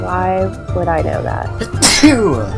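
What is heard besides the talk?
sneeze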